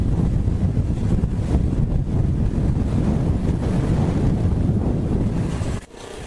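Strong wind roaring across the microphone while riding a Keeway Cafe Racer 152 motorcycle on a road in Bacolor, Pampanga: dense, loud, continuous buffeting rumble that dips suddenly near the end.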